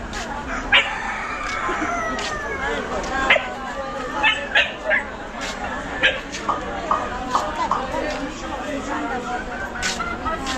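Dogs kept tied up at a busy market in Dimapur, India, let out a series of short barks and yips across the clip. People chatter in the background and a rooster crows.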